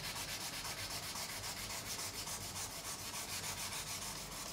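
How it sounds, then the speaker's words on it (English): Sandpaper rubs back and forth in quick, steady strokes, stripping lacquer from the neck of an Ibanez RG200 electric guitar, a soft, close, continuous scratchy rasp with no talking. "80 grit or 120 grit on here and just start taking off this lacquer"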